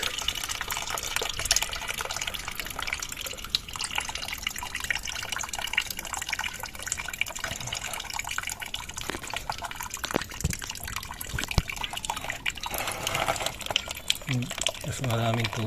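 Coolant water drains steadily out of a Suzuki Every radiator, a continuous close splashing and trickling stream with occasional drips, while someone talks over it.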